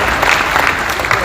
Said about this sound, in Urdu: ایک بار پھر زوردار تالیاں.